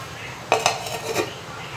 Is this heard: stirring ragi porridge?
yes